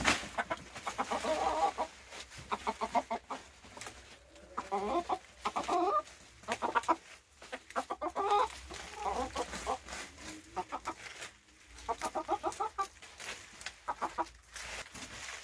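Chickens cluck repeatedly in short, choppy bursts at a backyard garden of potted organic vegetables, fairly close but quiet, with brief pauses between runs of calls.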